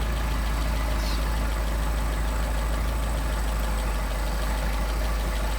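Steady idle of a Mercedes 190SL engine with Solex carburetors while its idle is adjusted, a loud, even, continuous low rumble with a faint mechanical patter, close and unbroken, with no voices.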